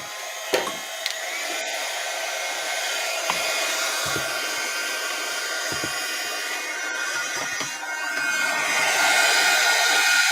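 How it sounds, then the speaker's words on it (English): A heat embossing tool blows hot air over gold embossing powder in a steady, close, breathy whoosh. It runs continuously with a few faint clicks and knocks, and it swells slightly louder near the end. "I need to heat emboss."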